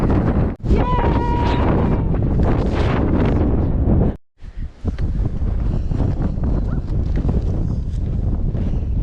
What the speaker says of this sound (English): You probably can't hear me because it's so windy.